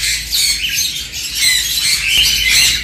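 A caged pet bird at a bird market squawks repeatedly in harsh, loud bursts close by, with sharp calls layered over a busy background.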